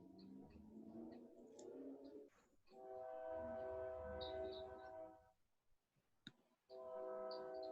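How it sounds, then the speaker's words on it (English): A train passes nearby, its steady rumble joined by prolonged horn blasts that swell, cut out briefly, then return, fairly loud against an otherwise quiet indoor setting. "Can y'all hear the train noise?"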